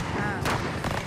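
A bazooka-like tear gas launcher fires at a protest over the budget outside the Argentine Congress, with sharp, loud bursts standing out over continuous crowd and street noise.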